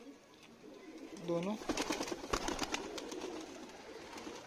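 Pigeons coo softly in a loft of paired birds, about thirty pigeons, with someone talking over the low calls throughout.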